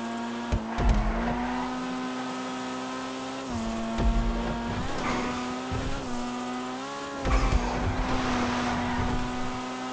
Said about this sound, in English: The car tends to fishtail in a frenzy when turning at fast speeds